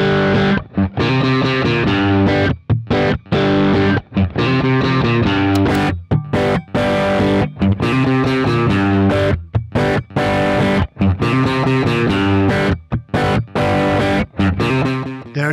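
Distorted electric guitar through an amp simulator plays chunky chords and riffs with a hard, driven tone, full and loud, with short gaps between phrases.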